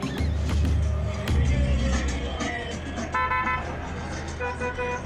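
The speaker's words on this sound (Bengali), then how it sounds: "এখানে একটা বাচ্চা রাস্তা পার হচ্ছে, আমি তাই হর্ন বাজালাম।" Car horn honks on a busy road in Peru, with engine rumble from passing traffic and several short honks sounding close and loud over the steady street noise.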